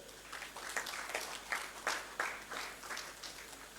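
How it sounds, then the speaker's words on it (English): Applause from a crowd at a diplomatic celebration event, fairly faint and distant, with claps swelling in soft irregular pulses. "That's a round of applause right there."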